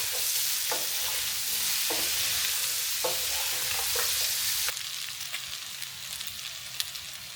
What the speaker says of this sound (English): Cover with a lid and let the spices slowly fry in the lamb fat.